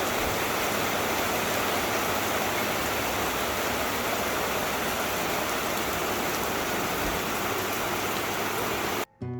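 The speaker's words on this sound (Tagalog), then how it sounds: "Ang ganda, ang sarap pakinggan ng ulan talaga." Steady heavy rain pours down on an outing, a dense continuous hiss of drops close by that lasts almost the whole stretch before stopping abruptly near the end.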